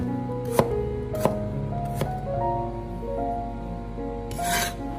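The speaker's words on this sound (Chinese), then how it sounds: "将生姜切成薄片，" A knife slices a peeled piece of ginger into thin slices on a cutting board, giving a few sharp, spaced taps over a low steady background hum, with a softer scraping cut at the end.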